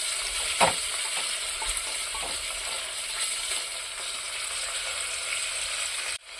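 Onion and tomato sautéing in a pan for a vegetable parotta salna, with continuous dense sizzling and occasional stirring scrapes and knocks, dropping out abruptly just before the end.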